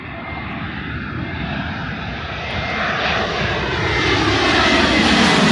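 A Spirit Airlines jet passes overhead above a Queens, New York street, a loud continuous engine roar that grows steadily louder across the clip, with no voices.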